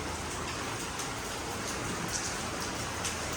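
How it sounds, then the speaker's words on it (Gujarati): Heavy rain pours down in a dense, constant hiss, drumming steadily on surfaces with no pauses, heard from inside a shop. "તમે જોઈ શકો છો કે આજે બી વરસાદ કેવો ચાલી રહ્યો છે"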